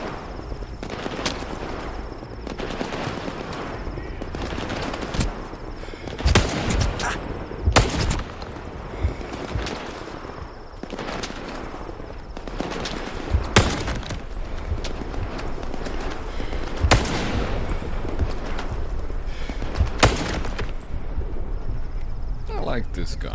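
Bursts of gunfire from a group of bandits in S.T.A.L.K.E.R. 2: Heart of Chornobyl, loud sharp volleys repeating at irregular intervals over a steady game background.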